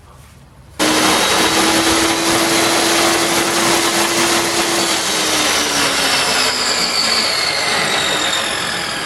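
A power saw cutting a thin plywood panel for a wardrobe cabinet: the tool starts abruptly and runs loud and steady for about eight seconds, its whining tone drifting lower as the blade works through the wood, close by with no talking.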